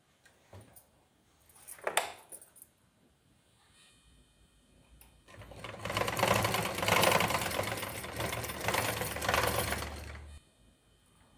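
A sewing machine runs a straight seam on a blouse piece, a short burst near the start followed by a longer, steady whirring run of several seconds that then stops, close by and fairly quiet.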